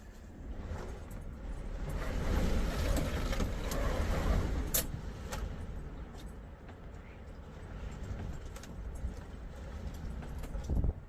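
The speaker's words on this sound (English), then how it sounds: "we're getting some 40-45 mile an hour gusts" Strong 40-45 mph wind gusts roaring and buffeting around a boat at anchor, rising and falling, plus a few sharp clicks and knocks, no clear speech.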